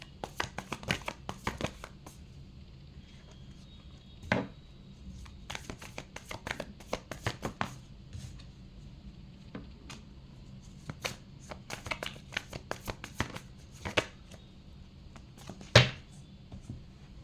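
Tarot cards being shuffled by hand, a long run of quick crisp riffles and soft slaps, some bursts louder than others, close and alone without talk.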